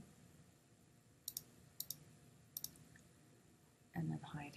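Computer mouse clicks while navigating a SmartBuilder login screen, several quick double clicks in a quiet room, faint and close, followed by a brief burst of speech.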